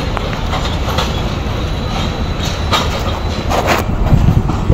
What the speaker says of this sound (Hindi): नाइन आप लामा एक्सप्रेस प्लेटफॉर्म नंबर दो पे प्लेस हो रही है